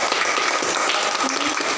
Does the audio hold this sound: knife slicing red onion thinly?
no